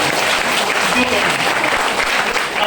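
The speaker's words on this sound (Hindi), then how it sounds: "ताली जोरदार वाली बनाए सर" A motivational speech audience gives loud, sustained applause, a thick and steady roar of clapping throughout with voices mixed in.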